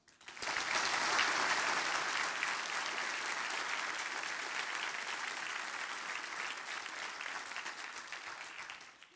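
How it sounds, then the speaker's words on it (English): An audience at a military induction ceremony in Glendale, Arizona bursts into dense, sustained applause that swells quickly and holds steady before tapering off at the end. "please join me in thanking him with your applause"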